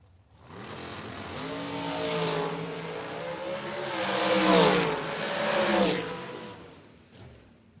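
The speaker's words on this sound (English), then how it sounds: "Another great drag race." Drag race cars launch and accelerate hard down the strip in a side-by-side pass, engines roaring loud and rising in pitch, the sound swelling and sweeping past before fading out near the end, with no talk over it.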